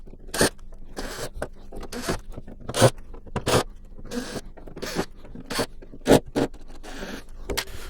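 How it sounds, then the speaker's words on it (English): Screws are backed out of the back plate of an Insignia NS-50F501NA26 TV, a close series of sharp, irregular ratcheting clicks and scrapes separated by short quiet gaps. "let's get these screws out of here"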